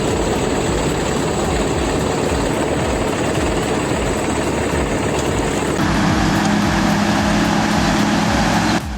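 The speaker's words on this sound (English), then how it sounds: "Behind the wheel of this Mega Mez 34 elevating scraper is more than brute force, it's finesse" A Mega Mez 34 elevating scraper with over 500 horsepower runs with a loud, steady, rumbling diesel drone that shifts tone partway through and continues unbroken.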